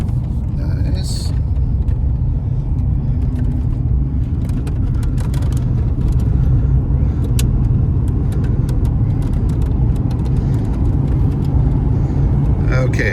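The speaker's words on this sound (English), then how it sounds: "Certainly I hear a little bit of the plastic rattle that you would expect, especially from a car of this age" Interior of a 1990s American car on the move, a steady loud low engine and road rumble throughout with faint intermittent plastic trim rattles and ticks above it; no talking.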